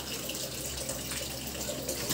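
Water and soap spray in a steady, loud hiss from the gun of a coin-operated 3-in-1 car wash vending machine, continuous with no talk.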